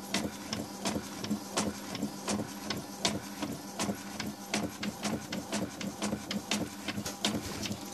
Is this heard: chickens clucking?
no